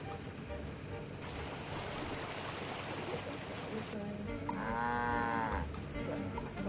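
A cow moos once in the Nancy Drew game Secret of the Old Clock, a clear drawn-out call in the middle of a quiet outdoor ambience with faint background noise.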